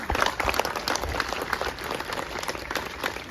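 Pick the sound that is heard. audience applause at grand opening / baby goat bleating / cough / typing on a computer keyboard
audience applause at grand opening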